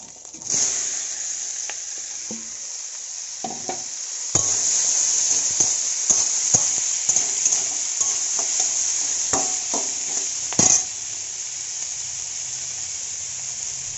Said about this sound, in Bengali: এখন ওই সাইডেই আমি আলু আর শিমগুলোকে ভেজে নিচ্ছি।